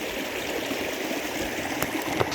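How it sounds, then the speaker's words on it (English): Greenville Creek flows near its headwaters in a nature preserve, a steady, full rush of water that stays close and even throughout, with no voices. "So here is the Greenville Creek itself."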